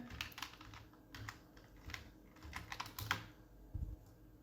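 A sitemap URL being typed on a computer keyboard, with quick irregular bursts of light key clicks and taps, close and quiet, with no talking.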